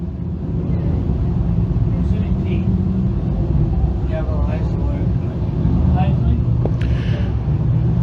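Dirt Car Sportsman race cars run a 20-lap feature on a dirt track at night, their engines a steady loud rumbling drone throughout, with a few higher revving swells rising over it.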